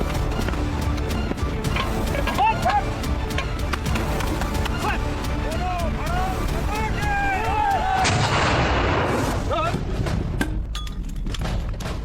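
Mortar and machine gun fire pound without pause across a BSF firing range near the border. The blasts and bursts are loud and dense, with a voice speaking over the gunfire.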